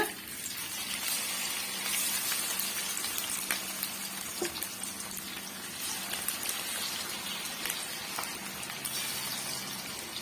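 Marinated chicken 65 pieces deep-frying in hot oil over medium heat, giving a dense, steady, close crackling sizzle that runs unbroken through the whole stretch with scattered sharper pops and no voices.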